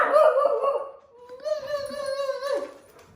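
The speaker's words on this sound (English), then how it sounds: "it was Miss Ma'am who barked" A pet dog named Mocha gives a couple of short, close barks and yips at home, ending in a brief whimper-like rise, with faint voices around.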